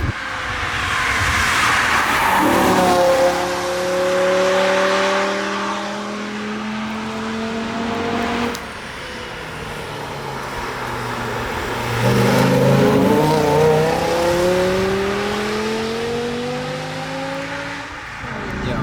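A powerful BMW M5 engine revs and accelerates through several gears, rising in pitch with each shift, loud and close throughout.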